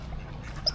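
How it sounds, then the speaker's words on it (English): A duck gives a single brief quack over a low background murmur while ducks are fed bread in a village park. "just some ducks being fed bread"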